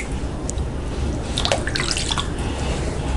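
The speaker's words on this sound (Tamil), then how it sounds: "இதை வந்து தண்ணியில் அலாசி எடுத்துக்கலாம்." Cut elephant foot yam slices being rinsed in a bowl of water in a kitchen, with soft sloshing and dripping and a brief cluster of splashy clatter midway, fairly quiet and steady, no voices.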